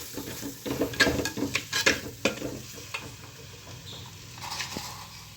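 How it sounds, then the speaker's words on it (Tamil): Chili powder frying in a pan over a low flame for a fish curry, heard as a close, soft sizzle broken by several sharp scrapes and clinks of a spoon stirring against the metal. "இந்த அடுப்பு சிம்மில் வச்சு நீங்கள் வந்து ஃப்ரை பண்ணணும்"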